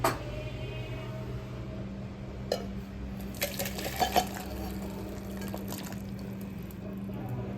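Boiled drumstick (moringa) pods are moved from a pan into a bowl in a home kitchen: a few soft clinks and scrapes of utensil on metal over a steady low hum, sparse and fairly quiet.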